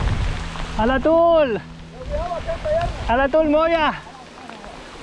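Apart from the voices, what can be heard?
rain falling on trail during mountain bike ride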